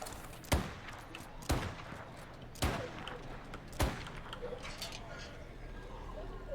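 Gunfire in the video game State of Decay 2 comes as four sharp, separate shots spaced about a second apart, over a low background hum with faint game noise.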